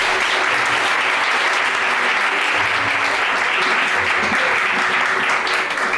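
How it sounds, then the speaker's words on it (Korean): Wedding guests in a church applaud warmly and steadily, a dense, even wash of clapping that holds throughout without a break. "뜨거운 박수 부탁드리겠습니다"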